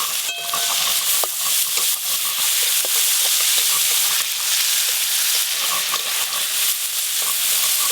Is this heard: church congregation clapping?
no